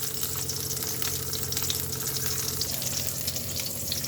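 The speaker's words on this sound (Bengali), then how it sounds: "ডালটা নামিয়ে পটল ভাজা চাপিয়েছি।" Pointed gourd (potol) frying in a pan, a steady close sizzle and crackle of hot oil running unbroken throughout with a low hum underneath, no voices.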